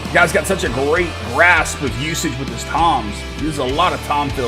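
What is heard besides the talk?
No everyday noises stand out.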